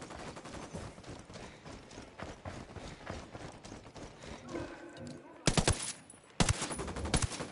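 Bursts of rapid gunfire in a tactical game, with two loud, sharp volleys standing out at the end after a stretch of busy mechanical clatter and background noise.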